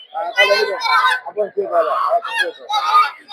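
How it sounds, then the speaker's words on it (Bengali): Domestic hen ducks quack repeatedly up close, harsh and nasal, overlapping with people talking nearby amid market bustle. "এগুলো সব হচ্ছে দেশি মহিলা হাঁস"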